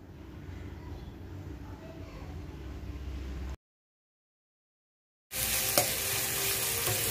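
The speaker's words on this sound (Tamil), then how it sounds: "எண்ணெய் காய்ஞ்சதும் லவங்கம் ஏலக்காய் போட்டு வெங்காயம் போட்டு நல்லா வதக்கலாம்" Onions frying in hot oil with cloves and cardamom give a steady sizzle that cuts out abruptly to silence, then returns louder and brighter with a crackle.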